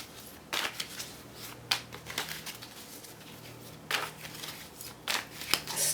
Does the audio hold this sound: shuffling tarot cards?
yes